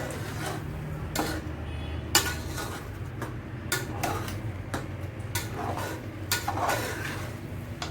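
A spoon stirs cucumber cake batter with semolina and ghee in a pan, producing repeated scraping clinks and taps against the metal in an irregular rhythm, close and fairly loud, with no one speaking.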